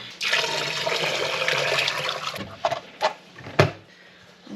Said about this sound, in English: pour 8 cups of hot water into the canner